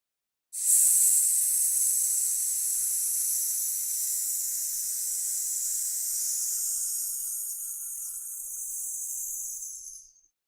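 A human voice holds a long, steady hissing S sound meant to imitate sizzling fire, bright and airy, lasting close to ten seconds before fading out.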